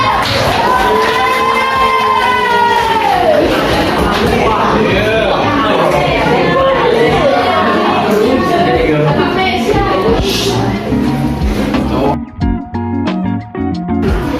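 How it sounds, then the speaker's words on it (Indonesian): A classroom audience fills the room with loud applause, mixed with cheering, shouts and lively voices. The noise fades abruptly near the end. "Tepuk tangan sekali lagi"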